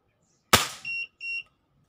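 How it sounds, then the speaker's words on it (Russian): One crisp shot from a Crosman 1377 air pistol firing a 0.49-gram pellet snaps close by, then two brief electronic tones from a chronograph sound in quick succession. "Второй выстрел."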